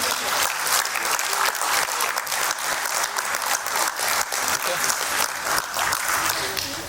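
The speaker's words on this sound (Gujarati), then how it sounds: "આપણે સૌ તાળીઓ પાડી અને" A seated audience at a devotional satsang gathering in Ahmedabad breaks into loud, sustained applause. The dense clapping stays close and even throughout, with no pauses.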